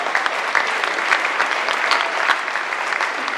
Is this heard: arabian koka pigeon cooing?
no